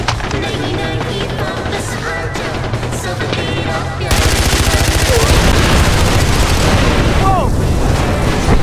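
Rapid gunfire from a gun fired out of a car in the video game Far Cry 4, a loud, dense burst of shots that grows heavier halfway through, with voices shouting over it.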